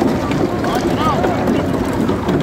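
Shikara boat ride on a frozen Dal Lake in Srinagar, with a steady wind-buffeted rumble and faint water and motion noise throughout, close and continuous without pause.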